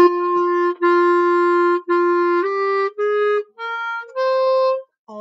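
Clarinet sounding a series of sustained tones, each held about a second with brief breaths between, pitch stepping slightly, close and clear in a quiet room; the last tones drop lower as the line settles on a D.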